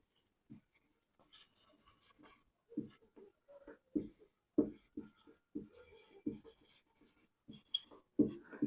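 A pen writes out a maths answer on paper in short, scratchy strokes and taps, faint and close, with brief pauses between bursts of writing.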